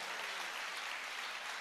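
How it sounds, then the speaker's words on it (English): A brief burst of congregation applause in a church service, many hands clapping together in a dense, uniform patter, fairly distant and steady for the short stretch with no talking over it. "You better clap better than that."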